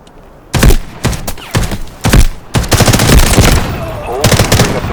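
Automatic gunfire in the Delta Force video game on PlayStation 5, loud bursts of rapid shots starting after a brief quiet moment, repeating in several clustered volleys with sustained rattling between them.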